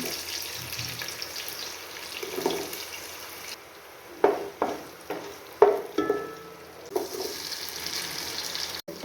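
Whole spices frying in hot oil for a home-cooked chicken biryani, a soft steady sizzle with several sharp crackling bursts and pops as spices hit the pan, close by with no talk.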